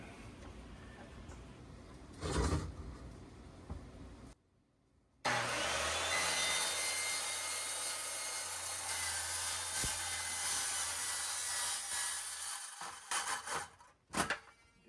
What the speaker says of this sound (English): Start in the middle of it, make a plunge cut.